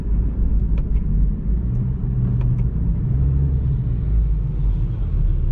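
Steady low car engine rumble with a continuous droning hum as the car engine-brakes downhill on an icy, snowy road, no talking, sustained at an even level throughout.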